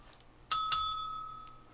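A bell is struck twice in quick succession, and the second strike leaves a clear ringing tone that fades slowly, moderately close, with no talking.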